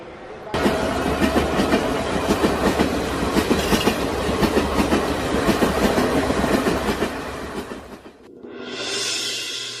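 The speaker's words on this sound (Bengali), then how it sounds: "ট্রেন ছাড়ার সময় হয়ে গেল" A train rumbles steadily with rhythmic clickety-clack of wheels on rails, loud and close, then fades into a hissy, quieter stretch near the end.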